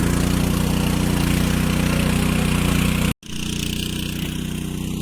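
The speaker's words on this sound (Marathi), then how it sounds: "ट्रॅक्टरने नांगरणी करून घेतो" A tractor ploughs a field in the first monsoon rains of the Konkan, its engine droning loud and steady up close, with a brief break in the sound partway through.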